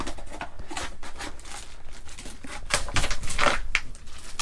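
Scissors cut through thick plastic mattress wrapping in an RV, a steady run of close, crinkling snips and crackles.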